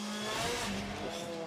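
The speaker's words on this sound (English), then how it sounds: "Listen to the wheel spin." A touring race car from the 2016 WTCC qualifying session in Russia spins its wheels on a damp track, giving a loud, steady roaring engine rush with tyre noise and no voices.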